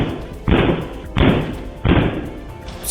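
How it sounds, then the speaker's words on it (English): Three heavy thuds of a foot and shoulder driven into a locked door at a steady pace, each a loud booming impact with a rattling tail, close by and without speech. "repeatedly driving his foot and shoulder into a locked door"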